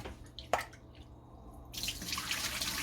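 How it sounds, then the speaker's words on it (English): Rice being washed in water for a second rinse: a sharp splash, brief trickling and dripping, then a steady run of water from a tap, close and fairly quiet. "So I'm still washing it for the second time."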